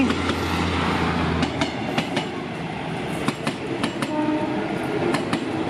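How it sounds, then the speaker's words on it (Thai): A Bangkok–Hua Hin passenger train rolls into Samsen station, a steady low rumble with repeated clickety-clack wheel beats over rail joints, close by and continuous, with no talking. "ขบวนสองหกหนะฮะกรุงเทพหัวหิน เข้าสถานีสามเสนแล้วครับ"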